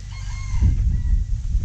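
A rooster crows once, fairly close and loud, over a low rumble of outdoor background noise.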